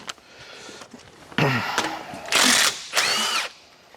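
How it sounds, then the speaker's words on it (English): An impact wrench with a 13mm socket removes the side cover of a track machine, sounding in three loud close whirring bursts with rising and falling pitch, separated by short pauses. "grab the impact 13mm socket"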